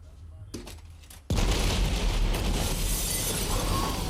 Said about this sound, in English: that explosion looked insane visually